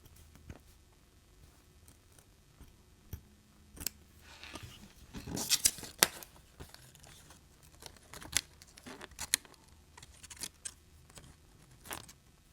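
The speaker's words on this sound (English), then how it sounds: "When you cut along the lines and it comes off clean." Scissors snip through glossy magazine paper in irregular bursts of crisp cuts and paper rustling, close and quiet, with no talking.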